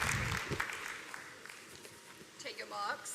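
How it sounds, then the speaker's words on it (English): An audience at a Med-Tech World startup pitch event in Europe claps in a short burst of applause that fades, with a voice speaking over it. "Big round of applause."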